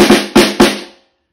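Snare drum with the strainer engaged, struck three times in quick succession, each hit bright and buzzy with snare rattle, close and loud, ringing out into silence.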